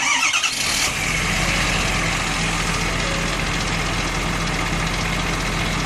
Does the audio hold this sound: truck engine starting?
yes